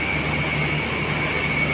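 Steady, close hum of a KRL Commuter Line electric train running between Yogyakarta and Solo, a continuous drone with a faint whine and no break throughout.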